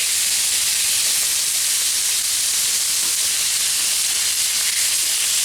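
Thinly sliced ribeye sizzles loudly on a Pit Boss three-burner griddle, a steady dense hiss of frying meat that runs unbroken throughout, close and alone with no talking.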